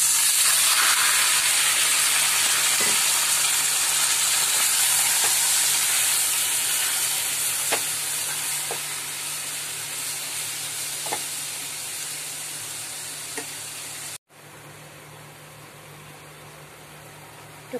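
Grated bottle gourd goes into a hot pan for a prawn dish and sizzles loudly at first, the hiss slowly fading with occasional soft clinks before a brief cut.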